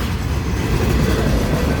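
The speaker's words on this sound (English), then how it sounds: "I hope this train ain't getting ready to stop." A freight train with tanker cars rolls through Depot Street in Chapel Hill, Tennessee. Its loud, close, continuous rumble carries steady wheel clatter, and no one speaks.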